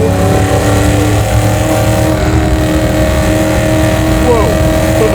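A garage-built, naturally aspirated custom Chevy C10 truck engine roars loud and close, a dense continuous rumble with layered tonal whine holding steady throughout.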